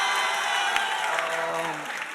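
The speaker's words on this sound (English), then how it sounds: "Please give a wonderful round of applause for Christian Nolan Jones." An audience at an Atlanta film premiere panel breaks into a short burst of applause, dense and fairly close, tailing off near the end.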